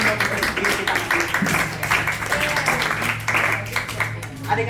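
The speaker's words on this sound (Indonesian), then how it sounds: "Tepuk tangan buat diri kita." A group of schoolchildren in a classroom clapping for themselves, a lively, uneven patter of hands with voices chattering underneath.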